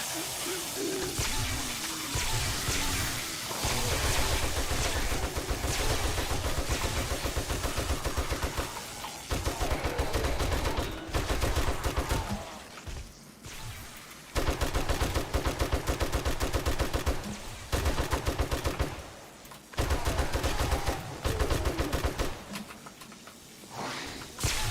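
Rapid gunfire rattles in the video game 7 Days to Die, a dense stream of shots in long bursts with brief pauses between volleys, loud and continuous throughout.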